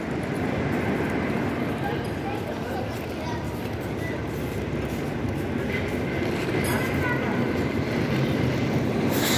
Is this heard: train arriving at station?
yes